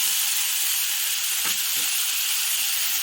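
Grated cauliflower added to a pan of fried onion and tomato gives a steady, loud sizzling hiss throughout, with a brief soft clatter as the pieces go in midway.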